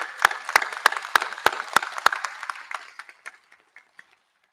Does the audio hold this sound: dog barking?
no